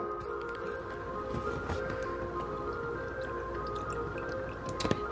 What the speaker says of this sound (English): So now I'm going to pour in my almond milk in my frother.